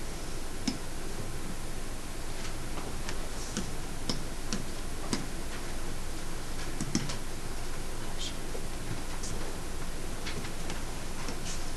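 Fingers tap the keypad of a graphing calculator, a run of light, close plastic clicks in an uneven rhythm over a steady background hiss.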